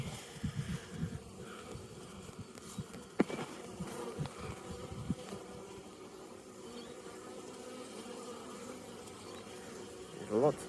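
Honeybees buzz around a backyard hive on a summer day, a continuous close droning hum with individual bees passing near, and a brief soft voice in the background.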